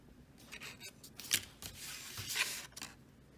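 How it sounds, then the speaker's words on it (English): Scissors snip the corner of a paper card in a quiet room, a few soft close cuts and rustles of paper, faint and unhurried. "I'll snip away this corner"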